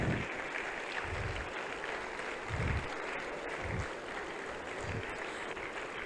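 Audience applause at the APHPN 2025 conference after a guest speaker's talk, a steady, moderate wash of clapping lasting throughout with occasional low thumps underneath.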